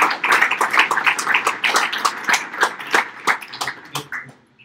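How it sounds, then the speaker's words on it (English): Applause from a meetup audience for a speaker at a blockchain and AI event in Munich, distinct claps with a strong uneven rhythm that swell and then thin out, tapering to a few last claps near the end. "And I think it's a huge applause for you."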